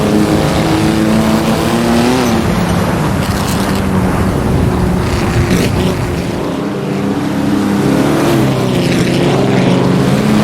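A Mercedes W125 Silver Arrows race car in a racing video game, its engine a loud continuous roar that rises and falls in pitch through gear changes and cornering, alone with no speech.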